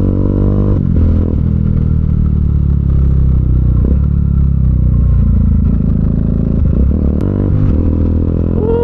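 A motorcycle being ridden on an open road, its engine giving a loud, steady drone with slight shifts in pitch throughout, close to the rider, with no talking.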